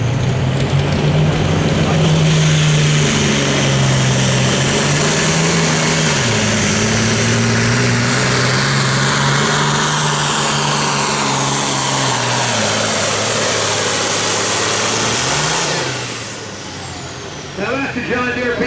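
John Deere farm tractor in a super farm tractor pull in Rossville, Illinois, a loud, close, sustained engine roar whose pitch shifts through the run, then drops away sharply near the end.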